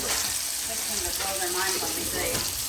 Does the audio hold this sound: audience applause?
no